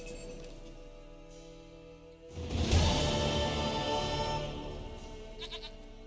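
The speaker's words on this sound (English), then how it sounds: "Goat of mine, dearest," A goat bleats in the video game The Witcher 3: Wild Hunt, a long wavering cry rising out of a quiet ambient drone and fading over several seconds, with faint clinks at the end.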